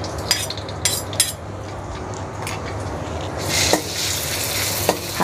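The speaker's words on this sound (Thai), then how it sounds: "เราก็ผัดแบบธรรมดาเลย ใส่พริกค่ะกับกระเทียมนะคะที่เราโขกไว้ตะกี" Chili and pounded garlic stir-fried in a pan, a dense close sizzle with clinks and scrapes of a utensil against the pan, swelling as ingredients are tossed, with no speech.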